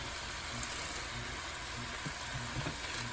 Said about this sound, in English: this is going to cook for about 2 to 3 minutes until the vegetables are slightly tender